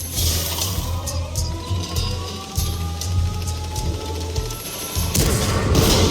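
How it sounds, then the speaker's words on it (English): A four-shot artillery barrage in World of Tanks: dull booms and crackling impacts over a steady engine-like rumble, continuous and loud, with a heavier burst near the end. "Hit me with this 4-shot barrage"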